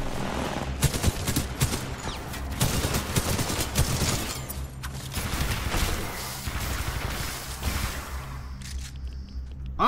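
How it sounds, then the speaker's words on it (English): A fully automatic shotgun in the shooter Titanfall 2 fires in rapid, loud bursts, blasts running almost continuously with brief gaps and a near, crashing quality. "Oh, it's a fully auto shotgun."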